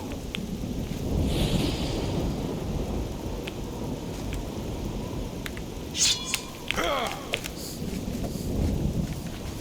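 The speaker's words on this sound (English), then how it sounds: "It's raining." Steady rain with rolling thunder in a stormy outdoor scene of the video game The Elder Scrolls IV: Oblivion, dense hiss throughout with sharper cracks and rumbles near the middle, no talking.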